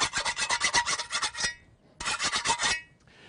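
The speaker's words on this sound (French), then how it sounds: "c'est de réaffûter le tranchant de la bêche si c'est nécessaire, soit avec une petite lime à fer comme ceci" An iron hand file rasps along the edge of a garden spade, with quick, close back-and-forth strokes in two bursts separated by a short pause.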